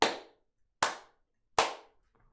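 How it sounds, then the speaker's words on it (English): Three sharp, close hand claps ring out alone, evenly spaced about three quarters of a second apart, each with a brief room decay and silence between. "I'm going to clap my hands so I know."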